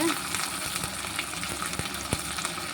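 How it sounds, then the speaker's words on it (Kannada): Mustard seeds and curry leaves sizzle in hot tempering oil for a Mangalore-style cucumber and ivy gourd huli, a steady close crackle with a few sharp pops and no talk. "ಸಾಸಿವೆ ಎಲ್ಲ ಒದ್ದಾದ್ಮೇಲೆ ಒಗ್ಗರಣೆ ಸೊಪ್ಪು ಹಾಕಿದ್ರೆ ಸಾಕಾಗುತ್ತೆ."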